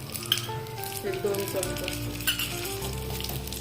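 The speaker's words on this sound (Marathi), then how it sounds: "आणि त्यातच थोडंसं मनुका टाकून भाजून घेऊया" Raisins roast in hot ghee in a pan with a steady, close sizzle and crackle and occasional stirring scrapes, while someone speaks briefly over the frying.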